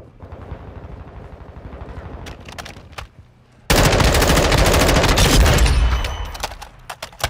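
Gunfire in Call of Duty Modern Warfare II on the Embassy map in Kill Confirmed mode, with scattered shots and then a loud, sustained burst of rapid automatic fire and explosions that fades over the last seconds.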